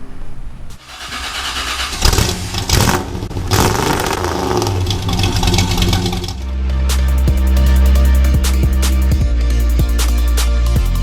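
A hybrid supercar being driven in Florida, heard up close with some rumbling and clatter at first, then the engine building to a loud, steady, deep drone with a few sharp clicks over it.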